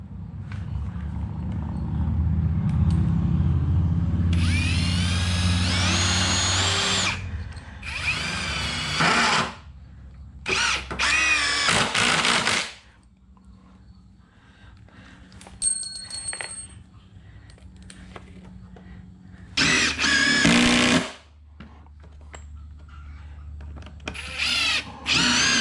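Power drill driving screws into a garage cart built on a furniture dolly, several loud whirring bursts of a few seconds each, close by, separated by pauses and quieter handling noise.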